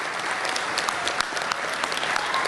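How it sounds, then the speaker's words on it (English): Audience applause for the 2013 graduating class at a theological school commencement ceremony, a dense, steady wash of many hands clapping with no break. "Can we give a round of applause to the 2013 graduating class?"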